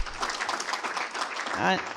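Audience applause at the opening of the 5th Africa Business Ethics Conference 2024, a steady wash of clapping from a hall crowd with a voice speaking over it near the end.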